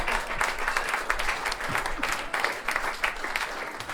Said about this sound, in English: You guys clap a lot